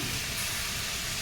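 Squash (kalabasa) dropped into a hot sautéing pan for a Filipino vegetable dish, giving a steady, loud, close hiss of sizzling oil with no break.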